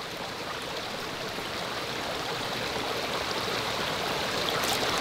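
Water running steadily at a spring beside a hiking trail, a continuous close rushing splash with no pauses and no voices.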